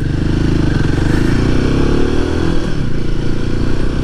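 A Royal Enfield Himalayan 450 motorcycle being ridden, its engine droning loud and steady up close with a continuous low rumble and slight shifts in pitch, alone without talk.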